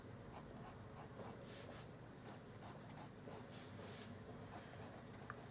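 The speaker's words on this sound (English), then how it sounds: "it's very, very pleasant nib to use" A Pineider Avatar fountain pen nib scratches softly across paper in quick strokes, faint and close with brief rhythmic scribbling pulses.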